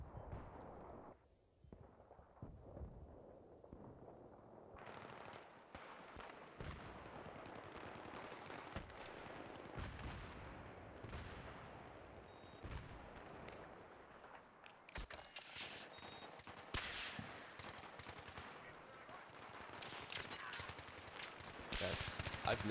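Dense Battlefield 3 gunfire, sustained bursts and single shots with explosive booms, continuous and fairly loud throughout a chaotic multiplayer battle.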